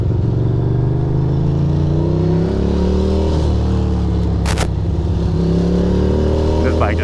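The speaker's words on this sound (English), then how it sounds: "This bike just sounds so nice." A 620 motorcycle engine runs steadily close by, a loud, continuous throb with slight shifts in pitch and a brief clatter partway through.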